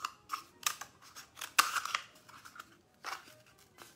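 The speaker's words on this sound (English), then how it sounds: "I'm gonna carefully take my scissors and cut the outline, including the cactus right there." Scissors snip around a paper outline that includes a cactus shape, giving a few quiet crisp cuts spaced irregularly and close to the microphone, with no talking.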